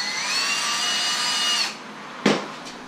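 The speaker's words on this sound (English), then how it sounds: "drill a hole," A power drill runs steadily as it bores a hole while building a PVC horizontal rod rack, its high whine loud and close for about a second and a half before cutting off, followed by a short sharp knock.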